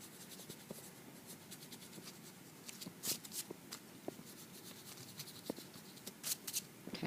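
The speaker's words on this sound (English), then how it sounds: "I'm going to erase my lines here" An eraser rubs out pencil lines on paper in short, soft scratchy strokes, close and quiet, with irregular brisk bursts of friction.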